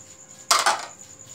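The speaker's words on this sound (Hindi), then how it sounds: "फालसा पहले डाला है, अब चीनी ऐड करें इसमें।" Sugar is added to falsa sharbat, giving a brief close clatter of a spoon against a metal vessel in two quick clinks over a quiet background.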